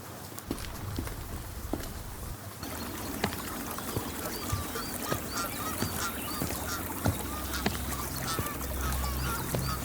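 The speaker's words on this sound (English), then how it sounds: "hear the footsteps of the horse, the water flowing, the birds flying, the rustling of the leaves" Horse hooves clip-clop steadily over flowing water and bird calls in a Red Dead Redemption 2 game scene, a busy layered outdoor soundscape with no talking.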